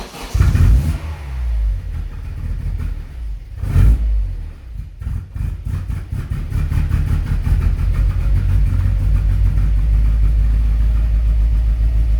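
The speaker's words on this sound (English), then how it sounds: "That is the car idling on its own. It's running horrifically" After a startup rumble, a 1994 Vauxhall Astra GSi engine settles into a loud, uneven idle with a rough pulsing throb that continues steadily.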